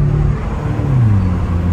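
A sporty Mini Cooper accelerates hard on a road test, its engine note climbing steadily in pitch as it pulls, loud and close from inside the cabin with no talking.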